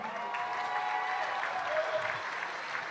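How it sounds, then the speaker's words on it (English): A crowd at a track meet claps in sustained, even applause for a freshman mile winner, a broad continuous patter of many hands with no voices standing out. "Everybody give it up for Quentin."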